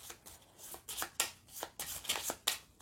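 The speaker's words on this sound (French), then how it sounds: "1, 2, mélanger la défausse." A discard pile of cards is shuffled during a tabletop board game, a run of close riffling bursts in a fairly steady rhythm, quiet and with no voices.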